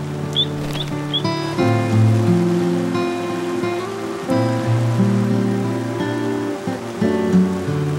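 Heavy rain pouring steadily outdoors, a dense continuous patter of drops on the ground with gusts of wind, loud and close, no voices present.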